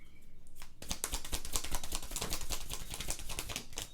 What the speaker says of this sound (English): my shuffling, my card pulling is a little too aggressive for you